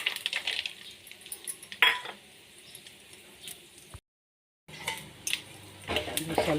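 Mustard seeds, cumin, chana dal and peanuts frying in a pan, soft crackling and sizzling with scattered spoon clinks and stirring scrapes, fairly faint and close, with a brief silent gap midway.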